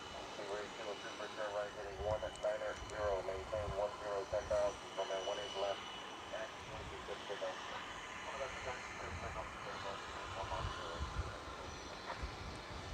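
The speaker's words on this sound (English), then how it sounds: "You're gonna hear the engines rev up." Airbus A380 jet engines spooling up for takeoff at DFW international airport, a steady broadband roar heard over continuous voices talking throughout.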